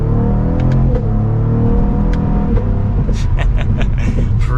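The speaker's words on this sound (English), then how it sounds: "we are setting off now in the CT4-V Blackwing" A 2022 Cadillac CT4-V Blackwing pulls away and accelerates from inside the cabin, its engine rumbling low and droning as revs climb through the gears, loud and steady, with brief voice sounds near the end.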